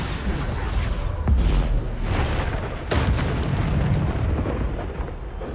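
Bombarda spell explosion in Hogwarts Legacy, a deep rumbling boom with a couple of sharp bursts layered over continuous low roar, loud and close.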